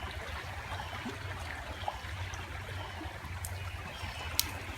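A farm creek, swollen after torrential rain, flows with a faint, steady rushing murmur, with no voices and only a couple of tiny clicks.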